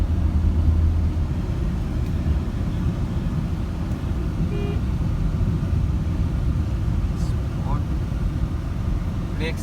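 A Tata Altroz car accelerates with a loud, steady low engine rumble and road noise heard from inside the cabin, continuing without a break.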